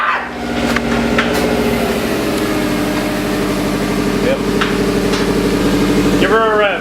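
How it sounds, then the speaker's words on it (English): A Subaru WRX fitted with a rusty 3-inch Borla cat-back exhaust runs with a deep, steady engine drone that climbs briefly near the end, while people talk over it up close. "Give her a rev."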